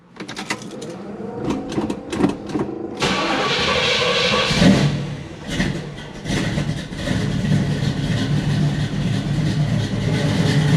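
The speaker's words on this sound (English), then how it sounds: "let's go and give this thing a first fire up with new plugs and wires and all new oil" A 1980 Camaro fitted with new plugs, wires and oil cranks and fires up for the first time, then settles into a loud, steady, rough idle close by.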